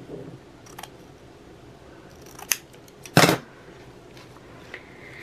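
Scissors cutting paper for a graduation wreath, a few sharp close snips with one loud cut in the middle, separated by quiet handling noises.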